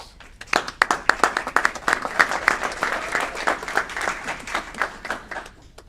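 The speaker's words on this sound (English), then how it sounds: "Let's also give Araceli Sanchez a round of applause" A room of people at an Aurora Committee of the Whole meeting applauds Araceli Sanchez, with dense, sustained clapping from many hands that holds steady for several seconds.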